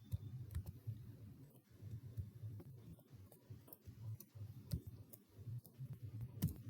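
Quiet close typing on a computer keyboard while writing code in a text editor, a soft irregular run of clicks and taps with brief pauses, no voices.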